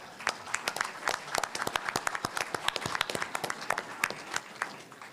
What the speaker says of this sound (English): So let's give a big round of applause for those winners for this year.